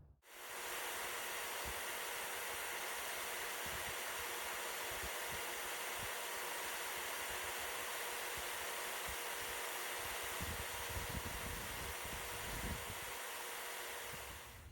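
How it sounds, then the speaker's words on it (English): A bench wire wheel strips rust from the blade of a vintage Colonial jack knife, giving off a steady, loud whirring hiss that runs unbroken for nearly fifteen seconds with slight rough bursts of contact. "we're just gonna hit the rest of this with the wire wheel"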